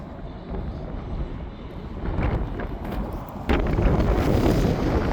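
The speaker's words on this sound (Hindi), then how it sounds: "बहुत तेज हवा चल रही है भाई, टोपी उड़ने वाली थी मेरी" Strong outdoor wind buffets the microphone in a steady low roar that surges louder partway through and stays heavy to the end, with no voices.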